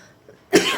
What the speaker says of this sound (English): about my cough.